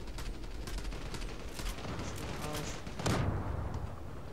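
Sniper rifle fire in the online shooter Zula: a sustained rattle of gunfire with one louder, sharper shot near the end, heard without talk.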